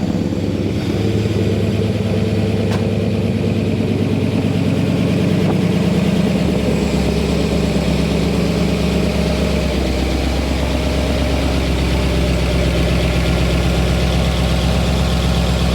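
A classic car engine at a car show runs at a steady, loud idle, a deep continuous rumble that shifts slightly in pitch partway through and holds until the end.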